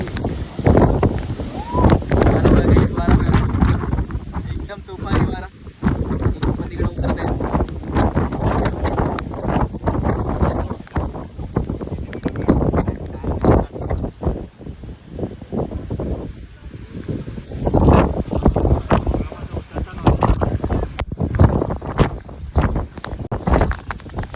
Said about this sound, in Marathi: तुम्ही बघू शकता एकदम खंडाचा वारा सुटलाय